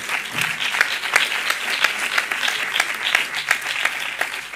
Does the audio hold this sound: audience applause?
yes